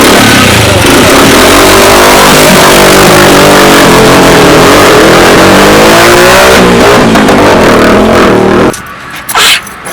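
A motorcycle engine revs hard and close, roaring loudly and continuously with rising and falling pitch for most of the time, then cutting off abruptly near the end.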